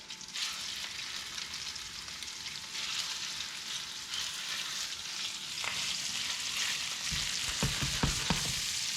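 Seasoned fish pieces browning in a small cast iron skillet, a constant close crackling sizzle that swells near the end with a few sharp pops and clatters.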